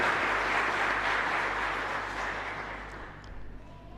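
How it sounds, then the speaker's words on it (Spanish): Sustained applause from a congregation at a Catholic Mass in a chapel, a steady dense clatter of many hands that gradually fades toward the end. "Ellos merecen un agradecimiento con este fuerte aplauso."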